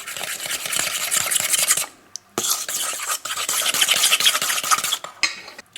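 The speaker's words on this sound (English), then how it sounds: "We're just going to keep stirring and mixing." Chocolate chip cookie dough stirred by hand, a rapid rhythmic thick scraping of utensil against bowl, close and loud, pausing briefly once before resuming.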